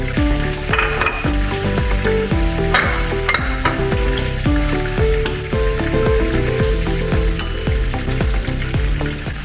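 Eggs sizzle steadily in a hot frying pan, with a dense, continuous crackle and occasional light clinks of a utensil against the pan, close and loud with no talking.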